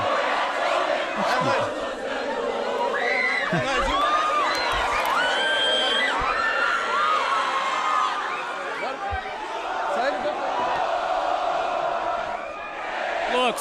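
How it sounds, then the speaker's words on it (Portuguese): Grêmio supporters celebrating the player Luan in a big crowd, a continuous roar of cheering, whoops and shouted chants with many overlapping voices throughout. "que festa bonita do torcedor com o Luan"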